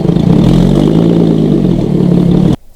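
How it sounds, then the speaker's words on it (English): A brand-new Lotus Evora GT430 with a full titanium exhaust starts up and settles into a loud, throbbing idle close by, then cuts off abruptly. "I can film the startup for you"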